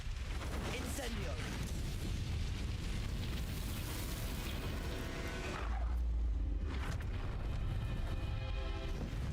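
A fire spell, Incendio, cast in the game Hogwarts Legacy, gives a loud roaring burst of flame over dense game noise. A second, heavier whoosh follows midway through.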